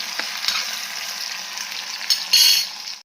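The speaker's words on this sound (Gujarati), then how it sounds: "બટેકા સોતરી લેવાના છે તેલમાં" Potatoes and chili sizzle steadily in hot oil in a pan for sabudana khichdi, a dense continuous fry broken by a few louder stirring bursts near the end.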